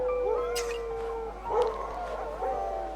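Dogs in The Red Lantern video game yip and howl, with long wavering whines and short barks rising over a steady background hum, fairly close and continuous for a few seconds.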